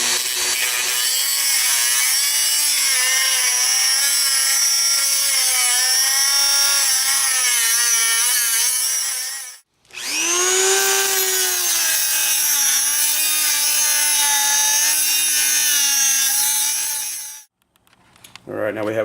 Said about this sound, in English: Take a Dremel and cut a slot in there so you can use your flathead bit on your impact driver